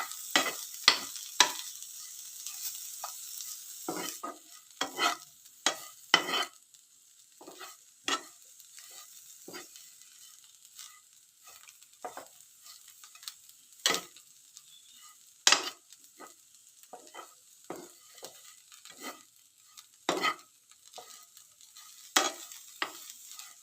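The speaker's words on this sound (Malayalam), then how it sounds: "ഉലർത്തി വെച്ച പയർ ഇല അതിലേക്ക് ചുരിയുക. എന്നിട്ടൊന്ന് നല്ലോണം ഇളക്കുക." Sautéed bean leaves are tossed in a pan, with irregular scraping and clattering spoon strokes over a faint, steady sizzle, close and fairly quiet, in bursts separated by short lulls.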